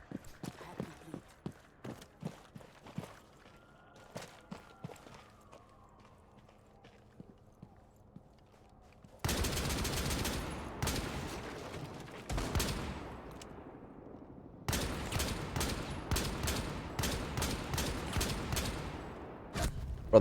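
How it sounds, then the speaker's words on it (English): Video game gunfire erupts in two loud, dense volleys of rapid shots partway through, following a quieter stretch of scattered light taps and clicks. "Bro, I'm shooting him."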